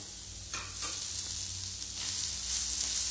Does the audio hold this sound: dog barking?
no